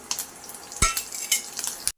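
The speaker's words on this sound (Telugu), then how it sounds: "ఇదిగోండి పోపు కూడా వేగిపోయింది." Whole tempering spices spluttering in hot oil in a kadai for an aloo fry, with close crackles and pops and one sharp louder burst partway through, no talking.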